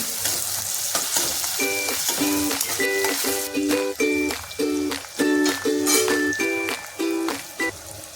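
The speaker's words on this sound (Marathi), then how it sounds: "कांद्यालाही तेलामध्ये चांगल्या प्रकारे परतून घ्यायचं आहे" Finely chopped onion frying in oil in a pan makes a steady sizzle under a melodic tune that plays over it throughout.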